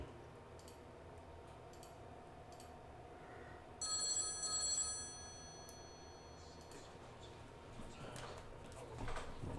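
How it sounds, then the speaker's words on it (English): A telephone gives one short burst of bright, metallic bell ringing partway through. The rest is a low, steady room hum. "Goddamn phone, shut up."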